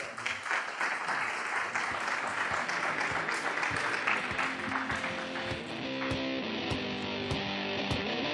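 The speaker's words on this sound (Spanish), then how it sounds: "Un aplauso para ellos." An audience claps for boxers at a professional boxing weigh-in event, dense applause at first that thins out into scattered individual claps, with some crowd noise underneath.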